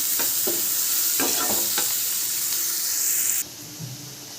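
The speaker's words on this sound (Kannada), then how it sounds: "ಒಂದು ಎರಡು ಹಸಿಮೆಣಸಿನ್ಕಾಯಿ ಹಾಕ್ಕೊಳ್ತಾ ಇದ್ದೀನಿ ಸೊ ನೀಟಾಗಿ ಫ್ರೈ ಮಾಡ್ಕೊಳ್ಳಿ" Onion, capsicum and green chillies sizzle loudly in a pan for pav bhaji, with a few spatula scrapes and stirring bursts. The hiss then drops to a quieter simmer for the last second.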